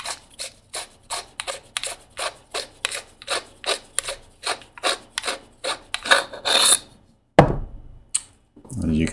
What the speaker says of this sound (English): And we'll just unscrew the handle.